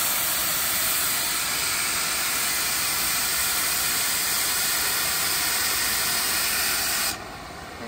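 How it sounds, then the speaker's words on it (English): An oxy-fuel torch on a pipe bevel cutter blasts a loud, steady oxygen hiss, constant and close, then drops sharply quieter near the end. "We're gonna hit the air trigger."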